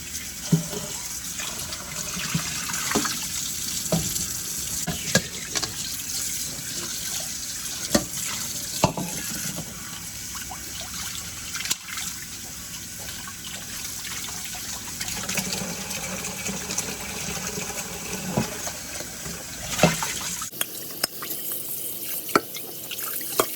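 Tap water runs steadily into a sink while frozen meat is washed, a close continuous splashing stream broken by small knocks and clatter, then cutting off near the end.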